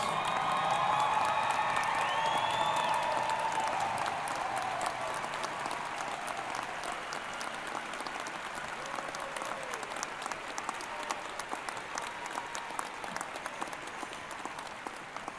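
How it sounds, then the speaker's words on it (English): A large crowd at a UNC-Chapel Hill doctoral hooding ceremony applauds continuously, loud at first and gradually thinning, with scattered claps and a few faint whistles mixed in. "Give yourselves a round of applause."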